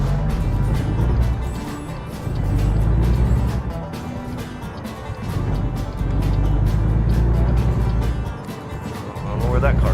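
A car passing on the road in the American Truck Simulator driving game, a steady engine and road drone that swells and fades several times, loud and close, running under the game's other vehicle noise.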